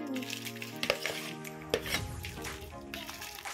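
Sago pearls are stirred into a pot of cooking binignit, with a soft bubbling sizzle and a few sharp clinks of a utensil against the pot, while a voice talks and music plays over it.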